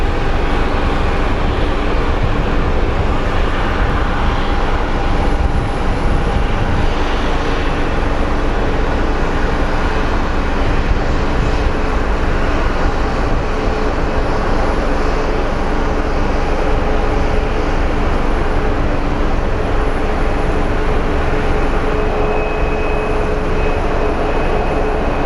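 Boeing 737 airliner at Sky Harbor International Airport: a steady, loud, broadband roar of jet engines throughout, continuous with no pauses or talking.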